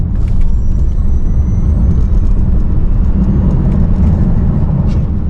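A Tesla Model S Plaid accelerating hard from 60 mph gives a steady, loud cabin roar of road and wind noise with a deep low rumble, continuous for the whole stretch without a break.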